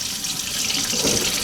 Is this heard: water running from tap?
yes